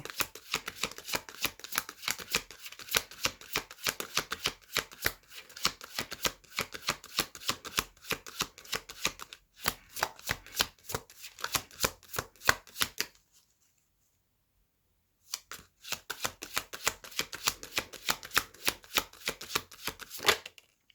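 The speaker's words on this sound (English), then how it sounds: "I'm going to pull another card" A deck of tarot cards being shuffled up close, rapid dense riffling and flicking in long bursts with a brief pause of silence partway through, no talking.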